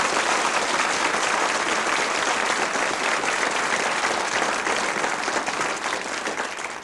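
A theatre audience in Adelaide gives Ernie sustained, even applause on a final night, a dense wash of many hands clapping at close range for the full length, with no voices rising above it.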